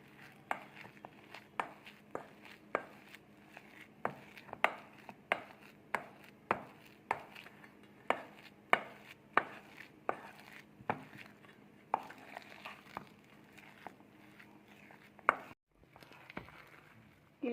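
Vada batter of three ingredients and salt is mixed by hand, giving a steady series of soft, wet slapping pats at a quick, regular rhythm, fairly faint and close, with a brief pause near the end.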